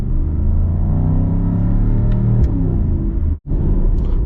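Mercedes-AMG GT63 coupe hybrid V8 rumbling loud and close, blipping through a downshift with rising revs before a sharp cutoff and brief silence, then picking back up.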